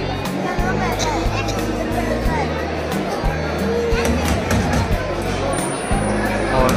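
A crowd mills at the entrance of the Khatu Shyam temple in Rajasthan, a steady murmur of many voices and shuffling under close narration.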